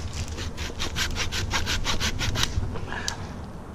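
A hand saw cutting a piece of downed poplar wood outdoors, about a dozen rapid rhythmic rasping strokes, close and clear, then stopping.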